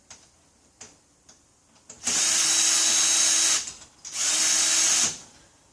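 Screw gun driving screws into saddle fittings, heard as two sustained motor whirs of about a second and a half each, preceded by a few light clicks and taps.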